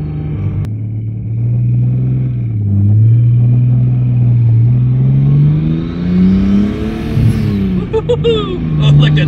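Manual five-speed car engine revving steadily and loudly up close, pitch rising and falling over several throttle blips, with a short higher whine near the end.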